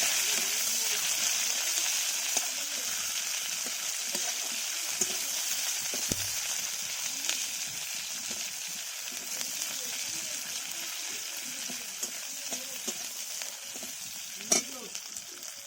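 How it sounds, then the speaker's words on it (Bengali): Onions fry in hot oil in a pan for a Bengali okra, potato and fish curry, giving a steady soft sizzle with faint stirring scrapes throughout and one sharp clink near the end. "পেঁয়াজটা ভাজা হয়ে গিয়েছে,"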